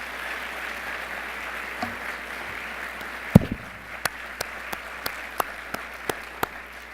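A crowd at a pinning ceremony and graduation applauds steadily, the clapping dense and continuous, then thins out into a handful of sharp, spaced claps near the end.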